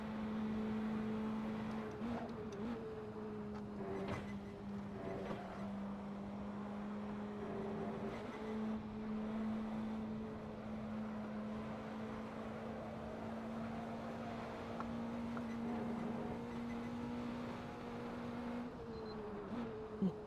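Praga R1 race car engine in a sim racing game at Watkins Glen, a steady droning engine note held at constant pitch for long stretches with slight dips at shifts, continuous throughout.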